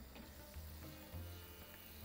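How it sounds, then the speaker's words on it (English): Water boiling in a pot on the stove while vegetable biryani is cooked, giving a steady, close bubbling hiss that runs unbroken for about two seconds with no voices. "you can see the water's boiling"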